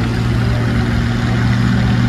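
An antique 560 tractor at a tractor pull, its engine a loud, steady, low mechanical drone that holds constant throughout, close by and with no talk over it.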